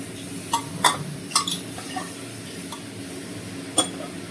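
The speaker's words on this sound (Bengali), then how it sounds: "দিয়ে নেড়ে নিলাম" Vegetables in a cooking pan are stirred with a utensil, giving a few distinct scraping clinks against the pan over a quiet background sizzle, close and fairly soft.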